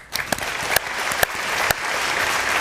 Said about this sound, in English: Let's give this entire group a round of applause.